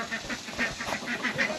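Ducks in a mobile coop quack and honk in a quick, close series of nasal calls over soft background noise.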